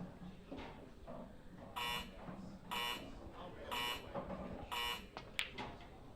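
A shot clock beeps during a professional pool match, four evenly spaced bright electronic beeps about a second apart, with faint commentary voices murmuring underneath.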